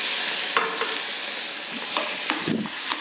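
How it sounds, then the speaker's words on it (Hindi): Carrot halwa tipped into hot ghee and stirred in a pan, giving a steady sizzle with scraping stir strokes and a few louder clatters, close and without talk. "अब इस घी के गर्म होते ही मैं हलवे को इसमें डाल दूँगी"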